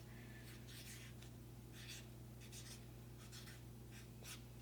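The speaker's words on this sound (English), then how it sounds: "I'm using my big fat Sharpie because I mean it" A big fat Sharpie marker scratches a name onto paper in short, close strokes with pauses between them, faint and alone over a quiet room hum.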